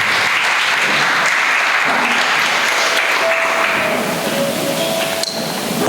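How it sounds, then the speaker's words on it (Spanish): A church congregation claps together for the Lord at a Spanish-language service, loud, dense and continuous, with a faint tone and a sharp knock near the end. "Dele palmas, hermanos, a ese Señor"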